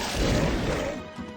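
A gunshot in the strategy game Heroes of Might and Magic 3 HotA: one dense, loud crashing blast with a booming low end that rumbles briefly and fades, with no voices.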